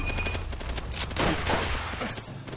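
Rapid bursts of gunfire in the Call of Duty: World at War mission "Burn 'em Out," dense volleys of shots at fairly close range that continue steadily for the whole clip, with no talk over them.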